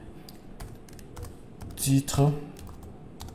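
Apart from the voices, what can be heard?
typing on a computer keyboard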